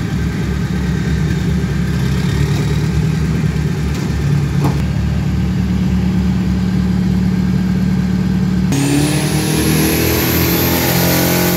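Turbo 3000 twin-shock steel street trucks of 1600 kg and 2500 classes roar at a drag strip, a loud sustained engine drone that shifts near the end into a sharp rising turbo whine.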